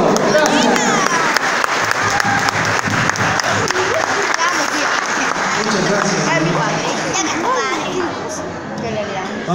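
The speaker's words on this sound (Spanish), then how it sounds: "¡Fuerte el aplauso!" Applause from a crowd at a folk music show greeting a performer, a steady dense clatter of clapping lasting throughout, mixed with children's voices and chatter.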